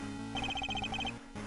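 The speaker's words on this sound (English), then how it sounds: "That's her cell phone." A cell phone ringtone chirps in the Ace Attorney Investigations video game: a quick series of bright, evenly spaced electronic beeps over a steady low game-music hum, stopping abruptly near the end.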